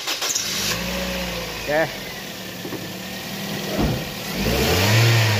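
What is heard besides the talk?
overhauled Toyota 2NZ car engine starting and revving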